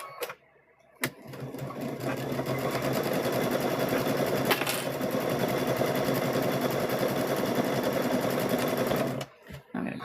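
A sewing machine stitching quilt squares runs steadily for several seconds with a constant mechanical whir, starting and stopping abruptly, close and loud.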